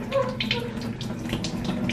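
Tap water running steadily while mixed lentils are washed in a home kitchen, a close continuous splash with soft clatter.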